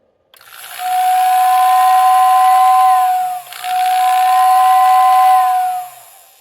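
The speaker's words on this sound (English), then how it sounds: "it still didn't fix the sound of the whistle" A Lionel toy train whistle motor blows two long, steady, loud whistle tones, each rising in at the start with a brief dip between them, shrill and airy and close up.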